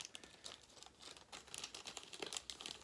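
Crinkly plastic packaging around small Christmas tree die cuts being pulled open, a close, irregular run of crackling and tearing rustles that grows busier toward the end.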